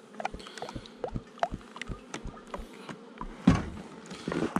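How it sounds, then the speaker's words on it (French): A bee trapped inside a can buzzes in short, uneven bursts, punctuated by light knocks and taps against the container, heard close up outdoors. "il y a une abeille dedans"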